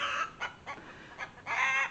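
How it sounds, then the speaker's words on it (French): Panicked hens on a farm during a fox scare, clucking and squawking in sharp repeated bursts, loudest at the end, fairly close with no talk. "Donc là les poules sont en panique forcément."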